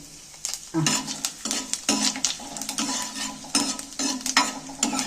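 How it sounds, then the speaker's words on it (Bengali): Whole spices fry in about two spoons of hot oil in a kadai while a spoon stirs them, producing a continuous sizzle broken by repeated close metallic scrapes and clinks. "তেলটা গরম হয়ে গেছে এইবার মশলাগুলো আমি সব মশলাগুলো একবারেই দিয়ে দিচ্ছি"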